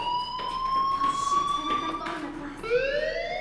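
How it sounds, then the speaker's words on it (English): Fire alarm ringing in the video game Life is Strange, a steady electronic tone with rising sweeps, sounding continuously at moderate volume with faint background activity. "do you hear that fire alarm?"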